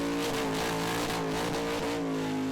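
A car doing a burnout at a Red Centre car show event, engine held at high revs with the throttle feathered and tyres spinning, a loud, continuous close roar with slight wavering pitch throughout.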